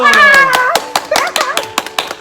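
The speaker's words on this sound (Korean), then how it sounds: "우리 친구들 고생한 우리 고유림 전사님 위해서 박수!" Children at a church Sunday service clap for a departing minister, a scatter of sharp, close hand claps breaking through excited young voices calling out at the same time.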